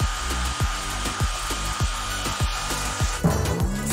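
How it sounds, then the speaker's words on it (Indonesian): A hair dryer blows on a frozen pizza, its steady whine broken by regular rhythmic scraping or rubbing strokes about every quarter second, loud and close with no talking. "Tapi aku punya hair dryer."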